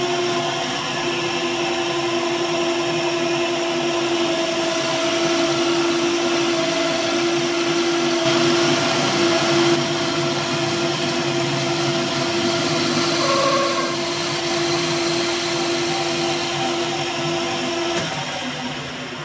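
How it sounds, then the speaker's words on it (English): A metal lathe turns down the end of a shaft to 12 mm, giving a steady, loud mechanical whine and hum with a constant pitched tone that runs unbroken for the whole stretch, with no talking. "I'll turn this end down to 12 millimeters and tap it"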